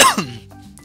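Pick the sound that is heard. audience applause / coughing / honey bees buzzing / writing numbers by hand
coughing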